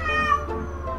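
A short cat meow sound effect from Final Fantasy VII, a single clear mew heard alone and fairly close.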